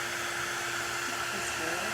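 A heat dryer blows steadily on ink on a pumpkin spice craft, making a constant close whirring rush with a faint tonal hum, continuous with no pauses.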